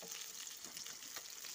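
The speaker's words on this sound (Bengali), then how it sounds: "মাছগুলো ভালো করে ভেজে নেবো, মাছটা আমি দুপিতে ভেজে নিলাম" Pieces of rohu fish fry in hot oil, giving a continuous crackling sizzle with quick pops, close by and with no talking.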